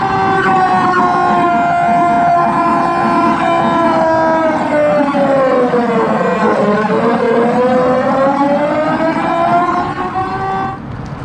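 A homemade bike-mounted synthesizer at full volume plays a loud wailing siren tone that glides down and back up in a long sweep, rich in harmonics and sustained for about eleven seconds.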